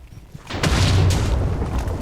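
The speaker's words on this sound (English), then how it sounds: "That was a big explosion." A big explosion goes off in the Minecraft game, starting with a few light clicks before a loud, deep boom that swells and rumbles on to the end.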